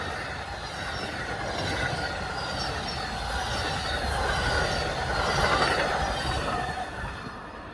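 An Amtrak passenger train on the Floridian route rolls past a platform at close range, a steady broad rumble of wheels on rails with faint squealing, swelling slightly toward the end.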